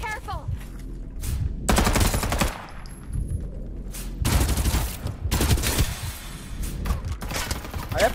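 Bursts of rapid automatic gunfire in the video game Farlight 84 crackle loudly in several volleys, separated by brief quieter gaps.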